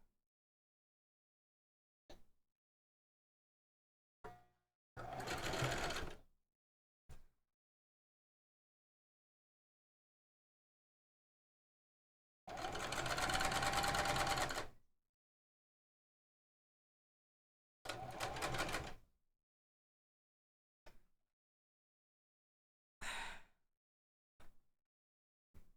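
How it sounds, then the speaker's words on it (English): Sewing machines running in short bursts of a few seconds each, separated by silence, with small clicks and taps between the runs. "Sewing machines."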